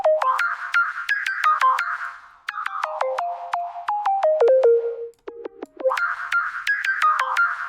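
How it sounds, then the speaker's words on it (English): Synth line run through an auto pitch effect with formant shift, producing quick stepped bell-like tones in rapid melodic bursts, loud and clean, with a brief lower dip partway through. "What would this auto pitch sound like on here if we format shift it?"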